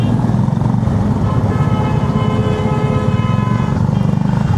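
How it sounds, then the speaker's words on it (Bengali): On a highway, a vehicle behind honks continuously, a steady sustained horn tone over loud engine and road rumble, with no talk. "পেছনে এসে কন্টিনিউয়াস হর্ন বাজিয়ে যাচ্ছে।"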